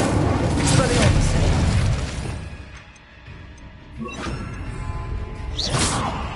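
Spell blasts in Hogwarts Legacy, including Confringo, Incendio and Expelliarmus: a dense run of booming, whooshing magical impacts and crashes, loud at first, easing off, then another burst and a sharp swish near the end.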